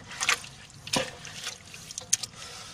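Water strained out of a soaked herbal mixture makes a few faint splashes and drips in short, irregular bursts with quiet gaps between them.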